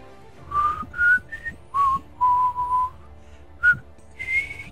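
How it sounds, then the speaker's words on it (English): A man whistles a short tune on a live show, a string of clear, close notes in separate phrases with short pauses between them, alone with no talking. "he's been warming up all show long to do this little whistle for you."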